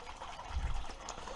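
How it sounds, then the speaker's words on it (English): Water flushes through the fuel tank of a 1944 Minneapolis Moline ZTU tractor, a steady rushing hiss with a low gurgling surge partway through. "I've been flushing the tank now"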